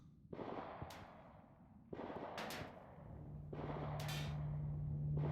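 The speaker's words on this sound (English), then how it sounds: "Notice how the gunshots sound different because they're in space." Gunfire in space in the RimWorld game: three sharp bursts of shots spaced about a second and a half apart, then a low steady hum rising underneath, no talk.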